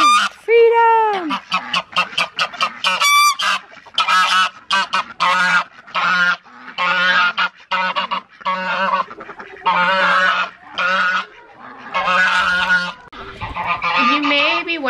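Chickens and ducks let out of their coop in the morning on a farm produce a busy, nearby chorus of honking and quacking calls. The calls come in rapid repeated bursts, with a few short human words mixed in.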